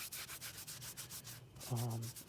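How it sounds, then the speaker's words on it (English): Hands rubbing together with rubbing alcohol, a steady close swishing friction in rapid repeated strokes, heard alone without speech. "I'm going to clean my hands with some rubbing alcohol."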